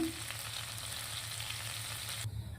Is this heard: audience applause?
no